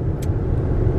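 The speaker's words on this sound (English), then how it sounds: "Very bumpy because we're in the car." Interior rumble of a car driving on a bumpy road, a steady loud low-frequency drone with a brief higher click near the start, no voices.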